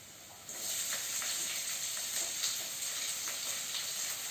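Garlic sizzles in hot oil in a pan, a bright steady hiss that starts abruptly and continues with small crackling pops throughout.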